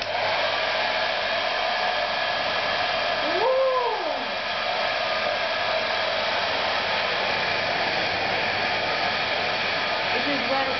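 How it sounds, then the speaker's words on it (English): A hair dryer running at its highest power: a loud, continuous, steady blowing roar throughout, with a brief rising and falling tonal chirp partway through. "Switch on of the biggest power of the hair dryer, and look how I do it."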